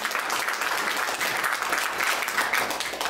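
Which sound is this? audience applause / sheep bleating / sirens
audience applause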